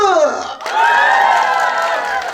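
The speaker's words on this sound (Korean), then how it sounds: "함성과 함께 박수!" A banquet audience at a year-end tea gathering bursts into loud cheering and shouting with applause, high excited voices swelling together close by.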